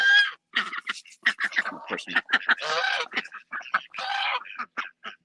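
Farm ducks and a domestic guard goose called Clarence honking and quacking in a quick, irregular run of close calls, with a few brief gaps between bursts.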